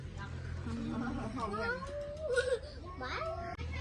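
A cat meows close by in a series of drawn-out, rising and falling cries over a low background hum, with faint voices around.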